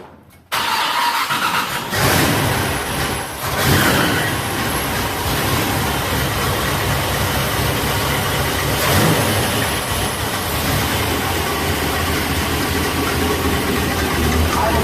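A 1967 Corvette engine cranks briefly and fires, then settles into a loud, steady rumbling idle that stays constant and close for the rest of the stretch.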